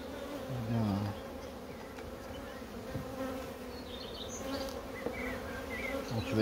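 Honeybees buzzing around open beehives while frames are being handled: a dense, close droning hum with individual bees swooping past and shifting in pitch, steady throughout and heard alone.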